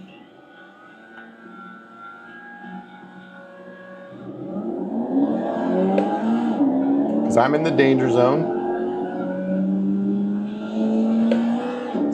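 Formula Vee race car engines in the iRacing video game, a whirring engine note that grows louder and rises in pitch as cars rev past, with a person talking throughout.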